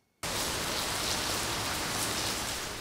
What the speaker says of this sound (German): Ganz kurz zum Wetter, schaut mal vor die Tür. Es regnet.